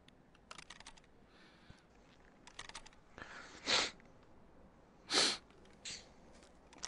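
Two short, sharp sneezes burst out a second or so apart, close and loud, over quiet background computer keyboard typing and faint sniffing.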